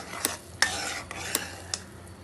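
Spoon stirring hot sugar syrup with cardamom in a pan while making kadalai paruppu (chana dal) laddu; a few distinct scraping clinks spaced irregularly over soft background hiss, no talk.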